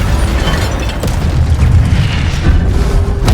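Incendio fire spell cast in the video game Hogwarts Legacy, a loud, dense roaring burst of flame with deep booming rumble sustained for a few seconds, close and forceful.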